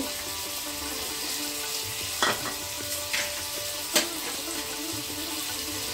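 Spices fry with a little water in a pan with a continuous hiss, with a few clinks and scrapes as they are stirred.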